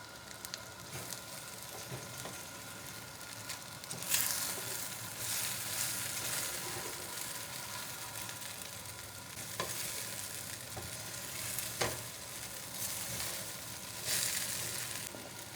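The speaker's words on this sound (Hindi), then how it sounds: "पाँच से 7 मिनट तक इसको फ्राई करेंगे" Okra fries in a pan for bhindi masala over medium heat, giving a steady, fairly quiet sizzle. Occasional scrapes and clatters of stirring come through as the spices coat the pieces.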